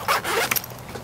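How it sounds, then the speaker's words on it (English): A zipper pulled open in a quick close rasping run, with a short burst of rustling teeth near the end, while derigging an amphibious trike. "Undo my zipper."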